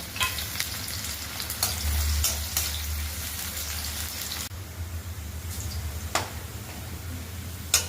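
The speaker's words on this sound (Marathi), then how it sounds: "कांदा त्या तेलात चांगला परतून घेऊया" Onion fries in hot oil in a kadai for a vegetable biryani, a steady close sizzle with scraping stirs and occasional sharp clicks from the spoon.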